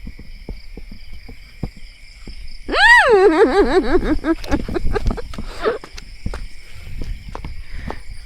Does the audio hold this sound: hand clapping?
no